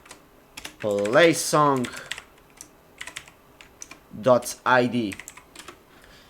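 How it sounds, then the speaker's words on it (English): Typing on a computer keyboard while coding a Django music player project, with soft rapid key clicks scattered through the clip under and between stretches of someone speaking. "And right here you just want to type"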